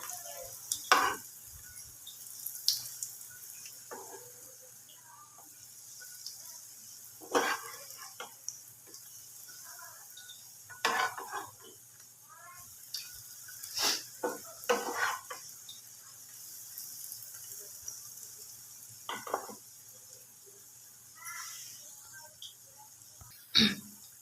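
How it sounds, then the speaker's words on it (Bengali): Egg pakora kebabs fry in hot oil with a quiet, steady sizzle, broken by occasional sharp clinks and scrapes of a utensil against the pan and a few throat-clearing sounds nearby. "দেখতে দেখতে এই কাবাবগুলো ভাজা হয়ে গেল"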